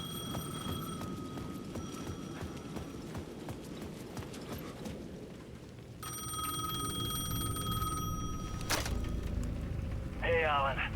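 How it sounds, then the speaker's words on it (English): A payphone at the edge of a plaza rings in the video game Alan Wake II, with two bright, repeated ringing bursts over a low ambient rumble and a shorter trill near the end. "payphone at the edge of the plaza was ringing again."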